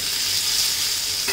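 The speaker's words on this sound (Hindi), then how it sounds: "और ये गए मेरे उबले हुए आलू" Boiled potatoes drop into hot oil seasoned with asafoetida and turmeric for jeera aloo, giving a steady, close sizzle and fry that fills the whole short stretch, with a brief stir-like scrape near the end.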